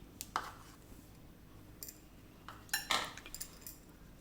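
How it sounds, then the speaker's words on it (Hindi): A spoon clinks against a bowl while ghee is scooped in at home, with a few light metallic taps scattered across the moment, the clearest pair near the end, set against quiet room tone. "मैं इसे चम्मच से बाउल में डाल लेती हूँ।"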